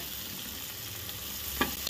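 Soya beans sauté in a pan with a soft, even sizzle, quiet and close, with one brief scrape of stirring near the end.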